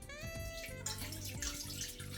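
Pieces of yam are washed in water, with continuous sloshing and splashing close by, a steady wet churning that carries on throughout without talk.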